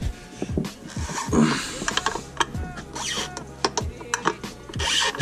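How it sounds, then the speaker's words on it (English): A ratchet working on the clutch shifter bracket bolts underneath a car, giving quick irregular clicking runs with metallic knocks and handling noises, close by. "we have to remove these 2 bolts on this bracket"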